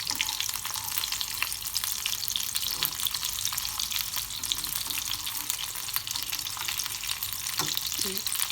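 Chicken kebabs frying in a pan as they cook on their second side, a steady close hiss of oil with a few faint clinks over it.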